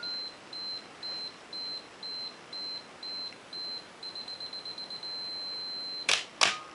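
A Minolta X-700 film camera's self-timer sounds a series of evenly spaced electronic beeps that speed up into rapid pulses, then hold a steady tone before two sharp mechanical clicks of the shutter firing, heard close in a quiet room.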